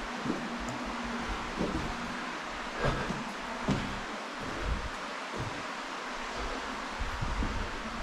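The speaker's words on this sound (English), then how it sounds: "There's a strong wind coming from the upper entrance to the lower entrance." Strong wind gusting through a low-ceilinged passage of Dead Horse Cave, blowing from the upper entrance toward the lower one, a steady broadband rush with occasional gusts and rustling, continuous throughout and with no talking.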